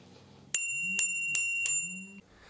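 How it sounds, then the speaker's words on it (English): A bicycle bell fitted to the handlebars of an iScooter U4 bike rings four times in quick succession, bright metallic pings with a ringing tone that carries under them, close and loud. "then the same procedure with the bell"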